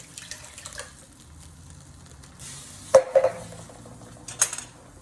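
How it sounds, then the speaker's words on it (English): Chopped tomato tipped into a pan while cooking a bean curry, heard as a few sharp clinks and scrapes of utensil against pan with a soft, short sizzle, close and fairly quiet, with no talking. "I'm just going to put the tomato in there"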